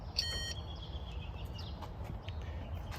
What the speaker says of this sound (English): when we connect it to our power source, you are going to hear a startup beep.